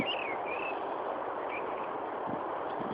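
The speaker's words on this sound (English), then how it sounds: "I can hear a bird right now." A bird chirps a few short, high whistled notes against a steady rushing background, fairly faint and some distance away.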